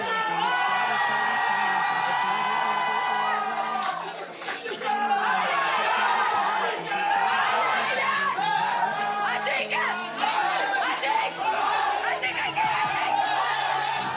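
Wedding guests at a reception shout, whoop and cheer loudly in a dense, continuous crowd roar that dips briefly around the middle and then swells again, with party music or chatter mixed underneath.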